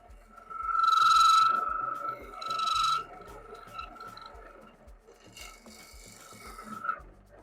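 A woodturning tool cuts shavings from a spinning workpiece on a lathe, making loud rasping scrapes in two strong passes and then a lighter, continuous scraping, all over a low rhythmic thump from the lathe.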